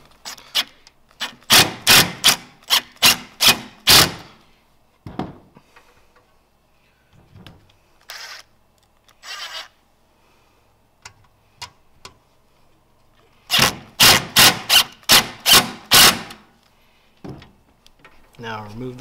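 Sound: driving screws into pedalboard mounting bracket

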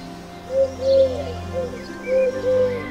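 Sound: pigeon cooing

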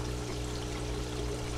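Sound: water flowing into grow bed drain

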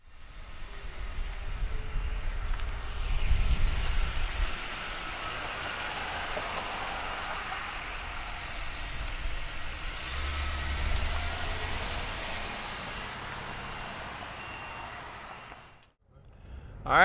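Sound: 1977 Buick Regal engine running

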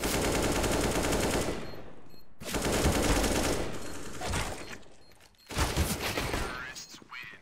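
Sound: pistol gunfire in Counter-Strike video game

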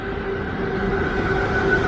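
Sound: passing train

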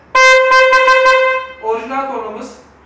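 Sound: original factory car horn of Volkswagen Jetta

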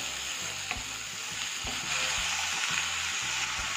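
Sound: garlic, onion and tomato sautéing in coconut oil

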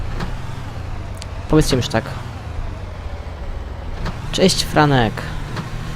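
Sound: car driving in the video game Far Cry

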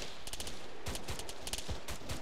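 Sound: gunfire from enemies shooting in a video game

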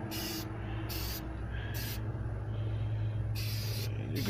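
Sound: aerosol spray onto car dashboard

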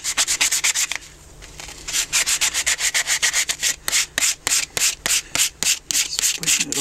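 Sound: sanding a carved wooden spoon with sandpaper

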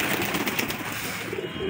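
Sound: pet pigeons cooing

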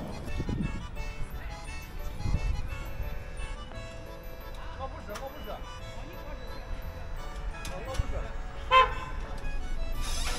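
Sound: busy city street traffic with car horns

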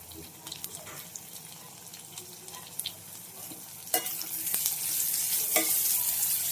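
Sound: onions frying in a pan

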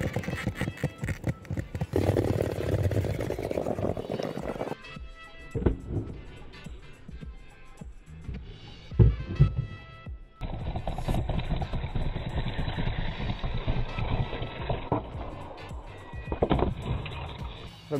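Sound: skateboard riding and tricks

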